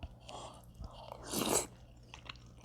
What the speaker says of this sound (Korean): 새우 젓갈에도 한번 찍어 먹어볼게요.